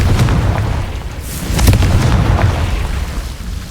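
A Confringo spell blast in Hogwarts Legacy, a loud booming explosion with a sharp burst in the middle and a rumbling tail, no talk.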